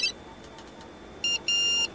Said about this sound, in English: It's my new mobile phone. The latest model, you know.